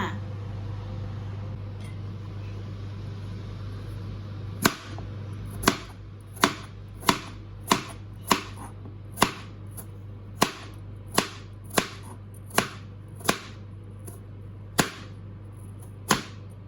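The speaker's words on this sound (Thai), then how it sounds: "เฮาไปหั่นมันฝรั่งกันค่ะ" A knife chops purple potatoes on a cutting board in a steady series of sharp, close thuds, about a dozen cuts spaced roughly evenly over a low background hum.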